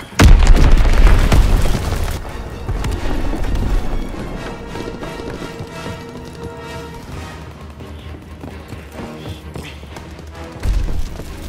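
Bomb explosions in the World War II shooter Call of Duty: WWII, a heavy, loud boom at the start with low rumbling debris and battle noise trailing off, then a second thump near the end.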